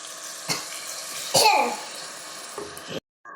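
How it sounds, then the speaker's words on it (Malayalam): Water is poured into a pan of simmering liver curry, giving a short, loud rushing hiss between lighter scraping and stirring sounds, close by, before the sound cuts off abruptly. "ഇനി നമ്മൾ വെള്ളം ഒഴിക്കും."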